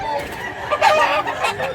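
Chickens cluck and a rooster crows among birds offered for sale in Mantalungon, Cebu. Short loud calls cluster near the middle and end over steady yard noise.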